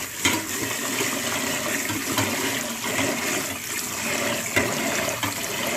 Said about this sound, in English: Thoroughly wash the dal.